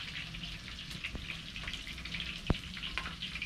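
Green onions sizzle and crackle gently in a hot pot for a fried green bean dish from Lake Ilopango, with a soft, steady frying hiss, scattered pops and one sharp clack, fairly quiet and without talk.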